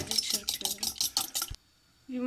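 Rapid rhythmic clinking of a whisk or fork against a bowl, about eight quick strokes, then a pause before the beating resumes.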